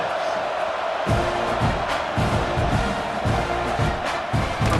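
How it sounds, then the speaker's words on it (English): A stadium crowd in EA Sports College Football 26 keeps up a loud, continuous roar, rising in rhythmic chanting swells. "that last score took a little oomph out of this crowd"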